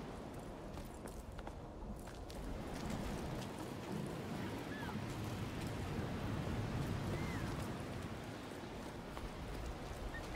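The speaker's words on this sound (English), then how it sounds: "It's windy as hell" Steady, broad wind roar above the clouds in the video game Jusant blows without pause, a dense low rushing wash with faint gusty rises throughout.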